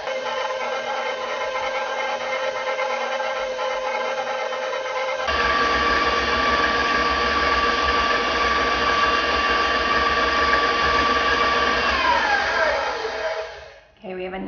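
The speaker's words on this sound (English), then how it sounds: "now we are going to add first our salt and then our sour cream. And I want to mix that up really well too." An electric hand mixer whirs steadily through cake batter with salt and sour cream in a bowl, its pitch shifting up as it speeds up partway through, then winding down at the end.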